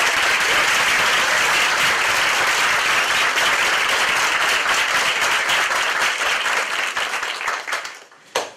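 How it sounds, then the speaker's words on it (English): An audience at the San Diego Mesa College Art Gallery gives the curator a sustained round of applause, dense and even throughout, then thins and dies away near the end with a few last claps. "I just think we have to give her a big round of applause"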